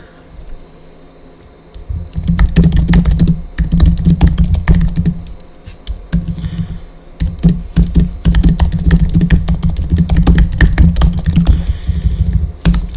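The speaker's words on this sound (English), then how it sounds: "I can definitely tell that my writing, my typing on here isn't good." Steady typing on a computer keyboard, close and fairly loud, with dense rapid keystrokes after a quiet opening and a brief pause midway; no talking.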